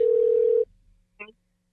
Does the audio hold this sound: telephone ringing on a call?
yes